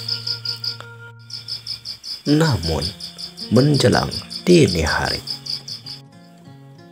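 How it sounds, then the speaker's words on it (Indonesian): Crickets chirping at night in a steady, rapid pulsing trill that runs beneath someone narrating, fading out near the end as soft music continues. "suara jangkrik terdengar sesekali dan sayup-sayup saja"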